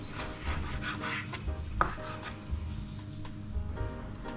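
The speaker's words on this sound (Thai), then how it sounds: "หั่นให้เป็นชิ้นบางๆนะครับตัดขวางเส้นกล้ามเนื้อนะ" Knife slicing pork neck into thin pieces across the grain on a cutting board, with soft repeated close-up cutting and scraping strokes at an uneven pace.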